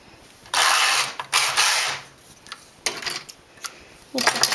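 A domestic knitting machine works several rows of a hat, its carriage passing in a few separate bursts of loud clattering, ratcheting mechanical noise with short quiet gaps between them.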